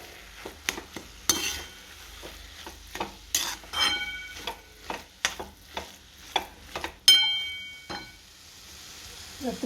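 Grated carrot sautés in ghee for carrot halwa, a soft sizzle under repeated sharp clinks and scrapes of a spoon stirring against the pan, close and irregular.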